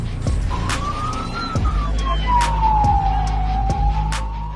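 A police car siren during a chase wails in a long rising and falling sweep, loud and fairly near, with repeated sharp clicks and low engine rumble underneath.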